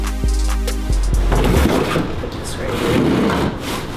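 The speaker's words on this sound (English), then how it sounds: "Now it is time to rip our board, which means we're going to cut it lengthwise with our table saw" A table saw rips a reclaimed wood board lengthwise, run against an ill-fitting fence held with clamps. A low motor hum gives way to a loud, close, continuous cutting roar for the rest of the clip.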